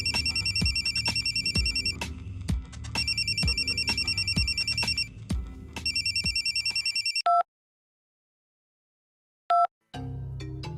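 A telephone bell rings in loud repeated bursts, three long trilling rings with a steady low thud beneath, then a short silence broken by two brief electronic blips before a low hum returns.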